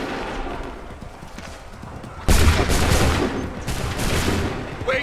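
A musket volley from soldiers in Assassin's Creed 3 Remastered: a sudden loud crackling burst of massed shots after a quieter stretch, followed by scattered firing and battle noise, with shouted commands under it.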